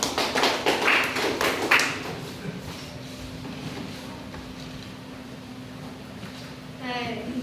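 A short burst of classroom applause for classmates after a group presentation, dense clapping for about two seconds before fading into quiet room noise.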